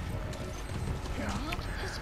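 Horse hooves clip-clop during a ride in the game Metal Gear Solid 5, a steady galloping patter under continuous background game sound, with speech likely over it.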